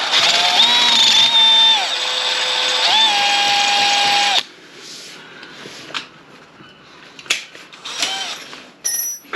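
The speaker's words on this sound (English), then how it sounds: "Widen this hole a little bit progressively" A power drill on a KTM 790 Adventure crash bar widens a hole for a riv nut, whining loudly in two bursts with a pitch drop under load, then stopping, followed by faint clicks and handling knocks.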